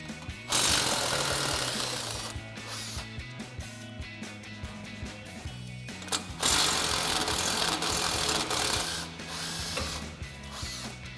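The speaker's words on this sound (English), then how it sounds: "we'll grab our 15 mil socket on our impact to do that." An impact wrench with a 15 mm socket rattles off the lower strut mounting bolts on a GMC Sierra 1500 during a lift-kit install, in two loud, hammering bursts separated by a pause.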